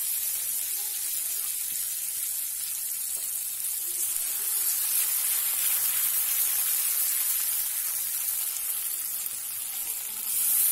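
A masala paste of poppy seed, melon seed and cashew sizzles steadily in oil for a prawn malai curry, with a continuous bright hiss at close range and no pauses.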